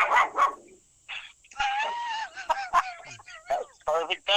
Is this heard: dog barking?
yes